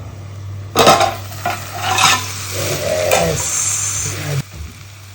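Chicken frying in a pan is stirred with a utensil, scraping and clinking against the metal under a steady close sizzle, with several distinct strokes.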